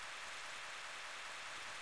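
Synthesized rain from a distorted Pokemon Fire Red hack, a faint, steady, even patter with no voices.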